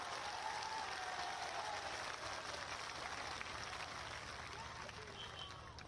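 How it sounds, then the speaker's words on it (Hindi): A large outdoor crowd at a political rally in Balurghat claps for Air Force soldiers, a continuous faint wash of applause that holds steady and then thins slightly at the end. "एक बार बहनों भाइयों तालियां बजाकर उनका स्वागत करें"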